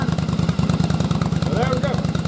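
An engine with dual carburetors runs on a test rig, its rapid, even firing pulses loud and close, holding a steady fast idle with a brief higher tone near the end.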